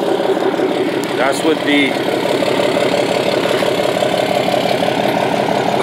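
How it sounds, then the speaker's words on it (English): A Ram 2500 diesel pickup with an EGR delete and 4-inch exhaust idles close by with a deep, steady, rhythmic rumble and knock, while someone speaks briefly over it. "I got my truck back from the diesel shop, and as you can see, or at least as you can hear, she sounded pretty good."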